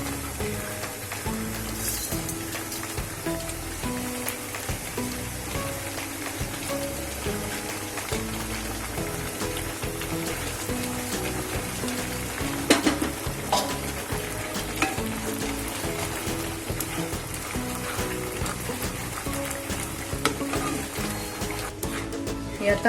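Milk thickening into khoya in a pan gives a constant soft bubbling sizzle while a utensil scrapes and stirs in repeated strokes, close by and fairly quiet, with a few louder knocks.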